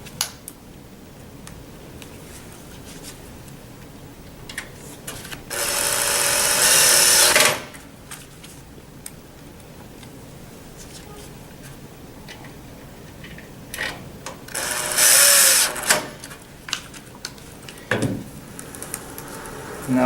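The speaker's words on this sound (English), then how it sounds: "Now we'll go ahead and put our two screws back on this plate for the head frame." Two bursts of a power screwdriver driving screws into the head frame plate of an RX 1 unit, each lasting a couple of seconds and separated by quiet handling clicks and small knocks.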